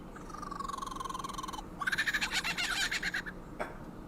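A lyrebird mimics a kookaburra call, giving rapid pulsing tonal trills that rise into a louder, choppy cackling burst before breaking off, heard clearly and alone.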